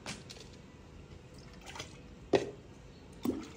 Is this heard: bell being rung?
no